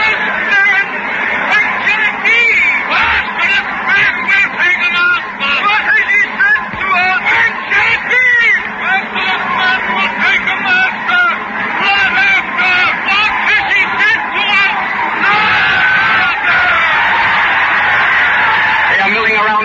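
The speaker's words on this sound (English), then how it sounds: "The whole square is whirling and turning and shouting." A dense, loud crowd roars and shouts continuously in a city square in a 1939 radio drama, many voices overlapping into a churning din with no single speaker standing out.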